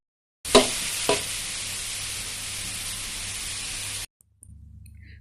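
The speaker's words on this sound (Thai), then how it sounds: "แต่ก็ต้องคอยคน ตลอดนะคะ เดี๋ยวจะไหม้ค่ะ" Papaya shreds stir-fried in a pan for an egg dish give a steady close sizzle, with a couple of sharp spatula scrapes near the start, then the sizzle cuts off into near silence.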